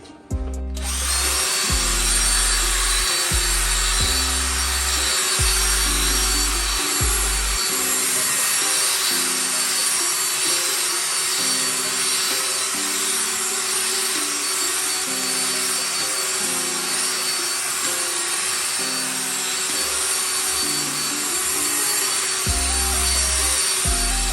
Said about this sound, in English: And then we're going to agitate this with the drill brush.